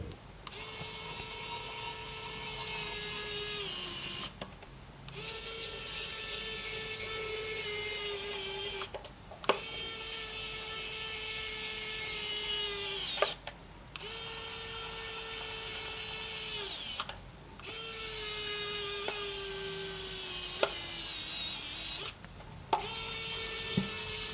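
A Kaiweets ES20 electric screwdriver drives screws to reassemble a power bank. The motor whirs in five bursts of about four seconds each, separated by brief pauses, and its pitch shifts slightly as each screw seats.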